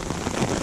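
Rain drums loudly and steadily on an umbrella on a wet trail in the Great Smoky Mountains, a dense close patter with no voices over it.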